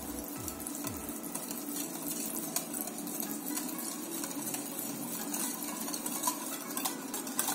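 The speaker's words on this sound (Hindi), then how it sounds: "मैं इन तीनों को अच्छे से पहले मिक्स कर लूंगी।" Cake batter being mixed by hand in a bowl, with powdered sugar stirred into the other ingredients; steady scraping and clinking of a utensil against the bowl, fairly quiet and continuous, with no voices.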